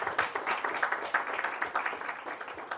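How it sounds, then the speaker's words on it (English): Audience clapping at a book launch event, a brief, moderately faint patter of many hands that keeps a steady rhythm without fading. "Let's have a round of applause for Mr. Karan Rajdhan."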